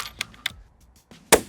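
A single sharp rifle shot fired with cheap ammunition at a 500-yard target, a loud close crack near the end after a few soft handling clicks.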